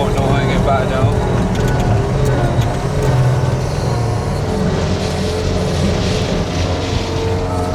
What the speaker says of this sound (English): Let's get some throttle in there.